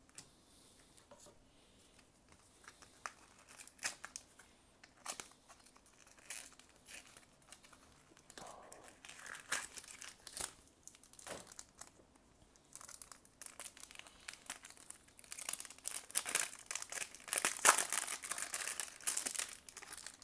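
A Bakugan booster pack wrapper is torn open and crinkled, with soft scattered crackles early on, building to denser, louder crinkling near the end, close up and with no talking.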